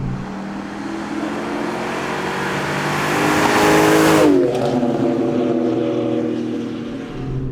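Dodge Magnum SRT8 wagon with a Hemi V8, a loud engine roar building steadily, peaking, then shifting down in pitch and fading into a lower rumble.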